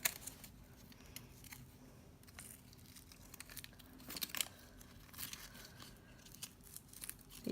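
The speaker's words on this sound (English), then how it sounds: "We're gonna peel this part off, and it should stick down." Thin Tegaderm film backing is peeled slowly off a fresh tattoo on a leg, giving quiet, close crinkling and faint tearing rustles in short bursts, with no voices.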